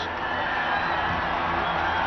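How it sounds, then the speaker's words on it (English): A packed 1997 Kentucky Derby crowd roars in a steady, dense wall of cheering that holds at an even level throughout, with no single voice standing out. "The crowd roars."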